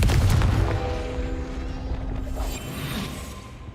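A Confringo spell explosion in the video game Hogwarts Legacy sounds as a loud, booming blast at the start, followed by a rumbling decay with lingering tonal hum under the game's ambience.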